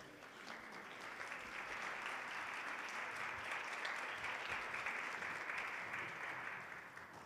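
Sustained applause from an audience at a school awards ceremony greeting the new CAM 2022, a steady, dense wash of clapping that swells in, holds evenly for several seconds and eases slightly at the end.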